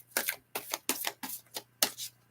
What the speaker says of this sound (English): Let's shuffle the cards and see what they say.